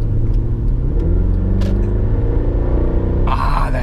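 Low, steady engine rumble from a Mercedes-AMG car cruising on the autobahn, a soft warm exhaust burble and growl running continuously under road noise, with a brief rise in hiss near the end.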